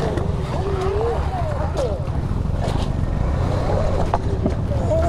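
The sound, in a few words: vehicle driving through water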